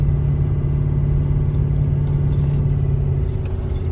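A truck engine drones steadily as it climbs a steep hill in Missouri, a close, constant low hum and rumble without variation or voices.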